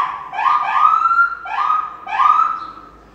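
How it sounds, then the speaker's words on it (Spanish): Police patrol car siren passing on a street, loud rising wails repeating three times in quick succession, close and alone. "Aquí pasa la patrulla muy seguido porque hay delincuencia."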